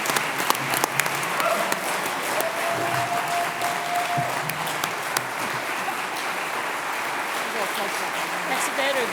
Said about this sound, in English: Please join me in offering a round of applause for our founders.